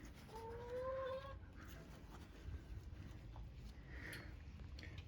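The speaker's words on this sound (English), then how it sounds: "Chickens." A chicken in a Melbourne backyard lets out one drawn-out, tonal squawk lasting about a second, somewhat distant, followed by quiet outdoor ambience with faint scattered sounds.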